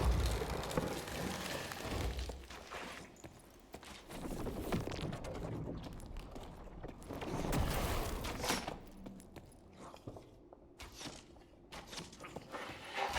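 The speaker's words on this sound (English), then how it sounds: "Ice cracking sounds on this man," Ice cracking in the dark-fantasy dungeon game Dark and Darker, a busy run of crunching, crackling bursts that mix with footstep-like steps and game noise, fairly loud and close throughout.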